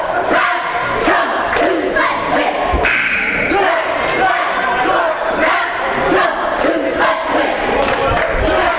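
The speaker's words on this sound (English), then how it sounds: "So we get a 30-second cheer." Loud crowd cheering and shouting fills a high school basketball gym during a 30-second timeout, sustained and dense with rhythmic stomps or claps punctuating it throughout.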